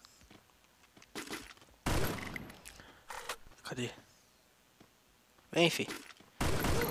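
Sharp bursts of gunfire crack out in a Free Fire mobile shooter match, several separate loud blasts spaced between stretches of quieter game sound, with someone talking briefly over them.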